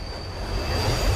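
A train rolls along in a horror video game, giving a steady, close low rumble with faint rail noise and a slight swell toward the end, with no one talking.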